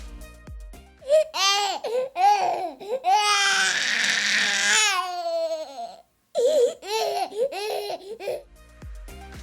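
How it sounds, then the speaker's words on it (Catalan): A baby cries in rising, wavering wails broken by short gasping pauses, loud and close, with a few hiccuping, laugh-like sobs mixed in and a brief musical sting at the start and end. "És el plor d'un bebè!"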